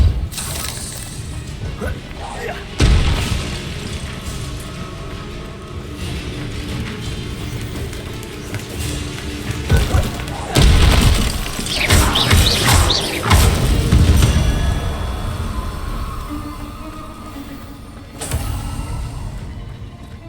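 Confringo and Repulsor spell blasts in the video game Hogwarts Legacy go off as several loud booming bursts and crashes over a rumbling game soundscape, with no talk.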